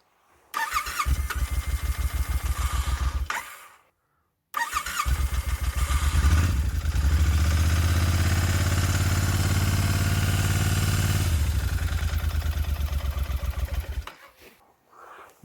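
A motorcycle engine, chilled by freezing cold, cranks and catches near the mic, sputters to a stop, then restarts and revs unevenly for several seconds before dying away. No talk over it.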